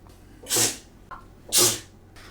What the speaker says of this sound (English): we're gonna be hearing sneezing from my son over here.